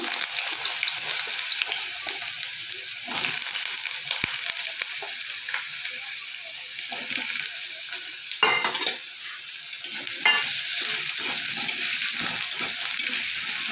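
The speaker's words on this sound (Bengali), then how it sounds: "আলুটা আমি একটু ভাজা ভাজা করে নেব" Potatoes sizzle steadily in hot oil in a kadai, a continuous crackling fry with occasional scraping as they are stirred.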